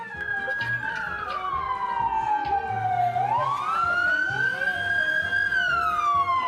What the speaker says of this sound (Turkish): Polis arabası.